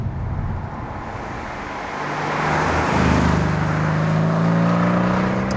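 A Mercedes-AMG C63 S driving on the road gives a steady interior rumble of engine and tyres that grows louder and fuller partway through. The sound is continuous and there is no talking.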